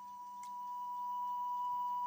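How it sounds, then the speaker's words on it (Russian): Cassette deck sounding a steady pure beep during track alignment, a single continuous tone that swells slightly and then holds level, quiet and alone without talking. "Пищит."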